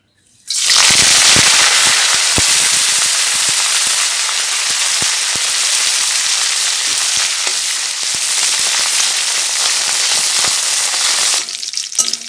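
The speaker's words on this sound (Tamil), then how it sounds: "ஸ்டவ் பொருத்தி எண்ணெய் ஊற்றி வச்சுருக்கேன். இந்த கருவேப்பிலையும் பூண்டும் வறுக்கிறதுக்காக." Curry leaves and garlic fry in hot oil on a stove, a loud continuous sizzle with popping crackles that starts suddenly and holds steady, then cuts off near the end.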